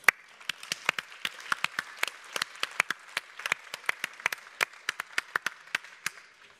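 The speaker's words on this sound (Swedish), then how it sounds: "Ge er själva en varm applåd." A small audience at the close of an autumn meeting gives itself a round of applause, a sparse group of distinct, crisp hand claps in an irregular patter that continues evenly for several seconds.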